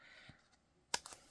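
Scissors snip through a chunk of paper in a card-making project, a sharp close crunch followed by a couple of smaller clicks, otherwise quiet.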